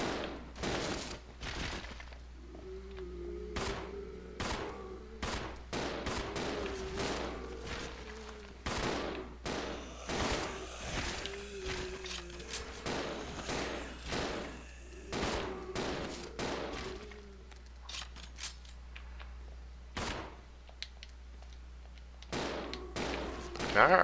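Rapid bursts of gunfire from shooting enemies in the Resident Evil Zero video game, sharp repeated shots with brief pauses between volleys and a steady low game hum underneath.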